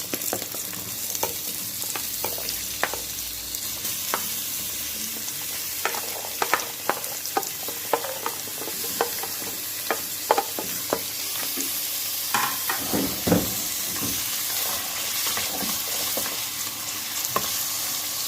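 Onion, tomato and garlic fry in hot oil with a steady hiss, broken by repeated scraping stirs and clacks of a spoon against the pan, close and fairly loud, without any talking.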